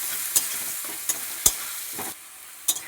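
A spice paste with turmeric and chili powder fries in oil, a soft steady sizzle broken by several sharp spoon clinks and scrapes against the pan at uneven intervals.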